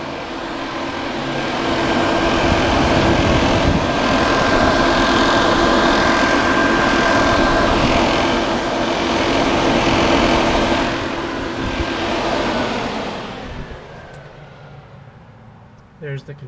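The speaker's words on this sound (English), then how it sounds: "So that's the sound of fans." Twin electric radiator cooling fans on a BMW E46 M3 run with a loud, steady whooshing roar and a faint hum, holding even for about thirteen seconds before winding down and fading.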